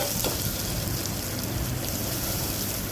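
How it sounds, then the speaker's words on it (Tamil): Red chillies and small shallots saute in a hot pan with a dense, even sizzle that runs unbroken and moderately loud for the whole stretch, with no one talking. "இப்போ வரமிளகா, சின்ன வெங்காயம் போட்டு நல்லா வதக்கணும்"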